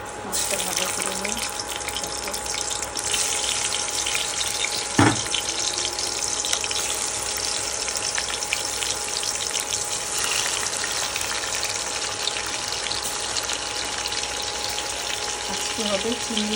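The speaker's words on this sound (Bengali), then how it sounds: "মাছটা ভাজা করে নিই।" Fish sizzles steadily in hot oil in a pan, a continuous bright crackling hiss lasting throughout, with a brief sharp clatter partway and occasional faint voice.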